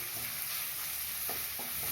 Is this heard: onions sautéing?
yes